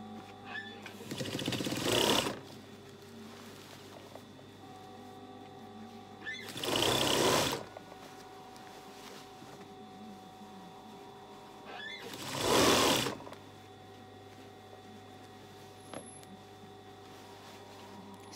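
A sewing machine stitches a bridesmaid dress during an alteration, running in three distinct bursts of about two seconds each, separated by quiet pauses with a low hum.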